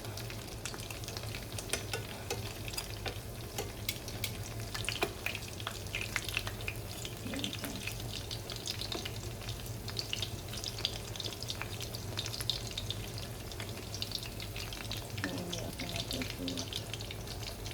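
Lumpia shanghai frying in a pan, a continuous low-level sizzle with scattered sharp crackles and spatters throughout, close and fairly quiet, with a steady low hum underneath.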